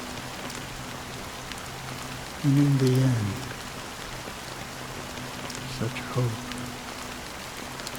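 Steady rainfall patters across surfaces in the video game Honkai Star Rail, a soft continuous hiss beneath a character speaking and low sustained background tones.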